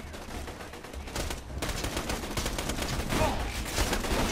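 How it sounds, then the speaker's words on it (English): Rapid gunfire in the Borderlands 2 video game, a steady dense volley of shots at moderate, fairly distant loudness with no talking over it. "being shot at"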